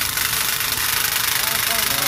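The motor of a handheld carpet-making tufting gun runs with a loud, steady, buzzing drone and a rapid mechanical rattle, heard close up.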